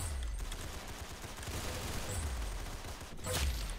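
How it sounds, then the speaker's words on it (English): A Gatling gun in the online game Arsenal fires in a fast, continuous stream of rattling shots, a dense rapid burst that stays fairly quiet and sits in the game mix. "Oh, that's actually really fast for a Gatling gun."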